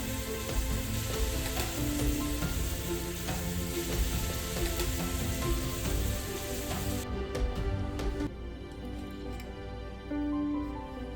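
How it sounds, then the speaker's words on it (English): A slice of apple pie, a scoop of ice cream and whiskey sauce sizzle loudly in a hot skillet, a dense close crackling hiss that drops sharply to a fainter simmer near the end. "To my hot skillet, I've added a slice of pie, a scoop of ice cream, and of course this beautiful whiskey sauce."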